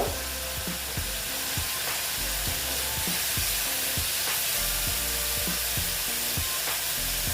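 Radish ghonto base being sautéed and stirred in a hot pan, steady sizzling with rhythmic low scraping strokes of a spatula repeating every half second or so, close and continuous.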